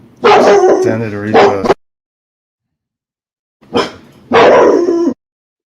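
A dog barks loudly and close in two bursts of rapid yips and barks separated by a short silence, with a brief spoken voice nearby.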